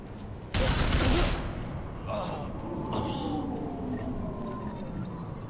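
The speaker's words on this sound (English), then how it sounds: "Where are the shots coming from?" Burst of rapid gunfire in the Deus Ex video game, a loud dense volley of about a second followed by fainter distant shots and ambient game noise.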